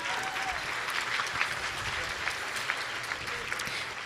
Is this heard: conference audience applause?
yes